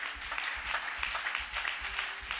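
A church congregation applauds during a sermon on the Holy Spirit, a dense, steady wash of many hands clapping throughout, with a low rhythmic thump underneath and no clear talk on top.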